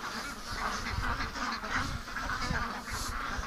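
Several ducks quack steadily throughout, raised for charity, with overlapping calls and a honk-like tone at close to moderate range against a faint outdoor background, no talking.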